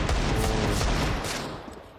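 Rapid Counter-Strike gunfire from a professional esports match, a dense fusillade of overlapping shots that stays loud and close, then thins and fades over two seconds.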